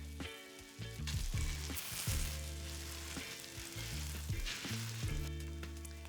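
Arepas frying in a hot pan, a steady close sizzle and crackle of oil that carries on without a break, with no voices.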